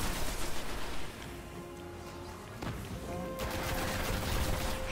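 Gunfire in the Destiny beta bursts in rapid volleys, with synthetic tones and effects layered beneath, loud and close throughout.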